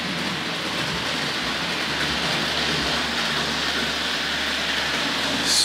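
A Hornby Dublo A4 Pacific model locomotive "Sir Nigel Gresley" with LNER coaches runs around a model railway track, producing a steady, continuous rushing whir with a faint low rumble throughout.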